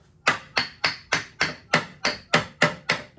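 Sharp metallic hammer blows tapping out the axle of a 1990 Honda Civic EF ring out about ten times at a quick, even rhythm, each strike loud and close with a short ringing decay.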